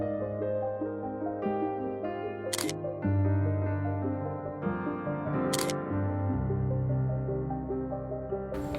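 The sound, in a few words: Canon 30D DSLR shutter taking photos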